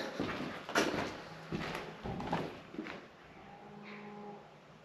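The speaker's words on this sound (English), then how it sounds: "The alarm is a cow." A mechanical alarm in an abandoned mill in Huddersfield gives out several long, low, cow-like moos in a row, fairly close and echoing in the empty building, with a faint higher hum at the end.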